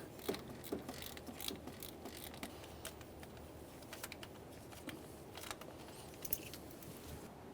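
Ratchet with an 8mm socket on an extension removing a distributor bolt on a 1994-1997 Honda Accord: faint, rapid mechanical clicking continues in quick repeated bursts for several seconds.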